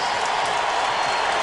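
Baseball stadium crowd at a Mets vs Marlins game, a dense, steady wash of cheering and applause that stays loud and unbroken throughout.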